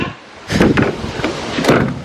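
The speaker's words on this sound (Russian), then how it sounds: "Надо поправить двери. Они у нас вот так закрываются." A Nissan GT-R car door swings shut with a couple of muffled thuds and rattles, heard close and alone.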